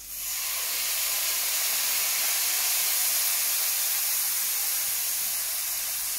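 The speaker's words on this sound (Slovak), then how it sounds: "Zhruba po minúte pridáme biele víno, musíte počuť toto." A loud, steady hiss and sizzle fills the whole stretch as white wine hits a very hot pan of rice and mushrooms, with no voices.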